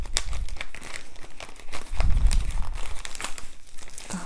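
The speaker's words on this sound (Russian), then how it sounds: "Так, zip-пакетик, это очень практично." A small zip-lock plastic bag from an embroidery kit is handled close up, producing continuous crinkling and rustling with a few sharper crackles and a soft thump midway, with no talking.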